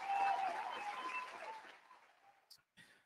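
Applause opens a sports talk show: a dense wash of clapping that starts loud and steadily fades away over a couple of seconds, followed by a couple of brief, sharp noises.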